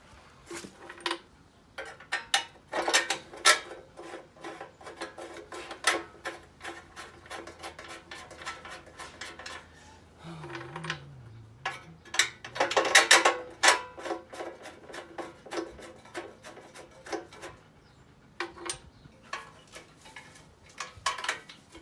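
Spanners and bolts are fitted on a 58-year-old vintage Victa lawn mower, giving sharp metallic clinks, taps and ratcheting scrapes in irregular bursts throughout, close by with no talking.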